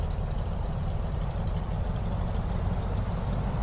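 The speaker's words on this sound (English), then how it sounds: "So idling at 750, that looks reasonable." The engine of a Waco YMF-5 biplane idles at 750 RPM in Microsoft Flight Simulator 2020, a steady, loud, low rumbling drone throughout with no talking.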